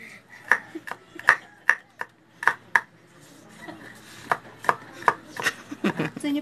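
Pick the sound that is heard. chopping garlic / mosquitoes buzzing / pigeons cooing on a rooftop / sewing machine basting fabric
chopping garlic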